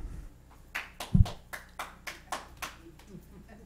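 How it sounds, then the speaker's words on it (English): A scattered round of applause from the audience at a Solvang city council meeting, roughly a dozen separate claps spaced unevenly, fairly faint and thin in a quiet chamber, fading toward the end. "Please, no applause."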